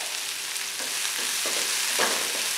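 Onion frying in a pan for fajitas, a steady loud hiss of sizzling oil with a few stirring scrapes and surges partway through, close and continuous.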